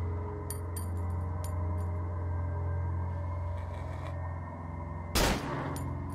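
Gunfire while shooting at an enemy in the horror game Cry of Fear, a few sharp cracks early, then one loud, close burst near the end over a steady droning hum, with no talk.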